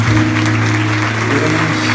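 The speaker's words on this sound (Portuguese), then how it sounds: "Aplaudam a Ele bem forte" A church congregation at a Sunday service claps loudly and continuously over a steady low sustained tone, with the clapping filling the room evenly.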